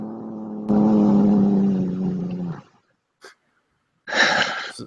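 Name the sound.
angry cat making a motorcycle-like noise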